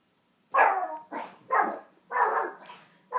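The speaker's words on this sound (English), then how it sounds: "oh, now you can hear my dog." A dog barks at close range, four or five sharp, separate barks in an irregular rhythm, some drawn out toward a whine, with silence between them.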